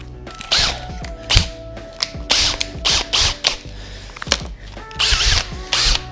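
A power drill fitted with a metric bit just over 1/4 inch runs in short bursts, its whirring motor rising and falling in repeated pulses with ratcheting mechanical chatter between them, close and fairly loud.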